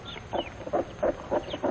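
Plymouth Rock chickens on a poultry farm, a mother hen and her chicks, cluck in short rhythmic pulses, with a few high faint chick peeps over a quiet background.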